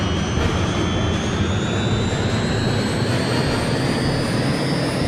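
A Harrier jet engine running in jet mode in the video game Eagle One: Harrier Attack gives a steady, loud, close roar with a thin whine that slowly rises in pitch throughout, with no voices.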